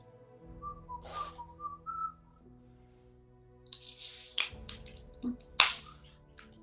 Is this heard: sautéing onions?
no